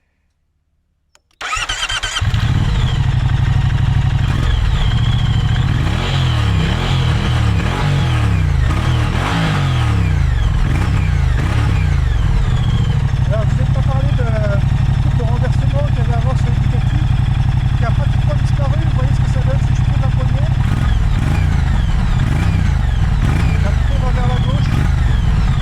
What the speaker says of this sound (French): Je vous ai parlé du son de l'échappement, maintenant on va voir ce que ça donne.